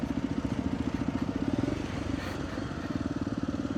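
A motorcycle doing a wheelie, its engine heard as a rapid pulsing putter at steady volume throughout, fairly close, with no clear talk over it.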